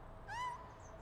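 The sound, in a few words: cat meowing in PowerWash Simulator video game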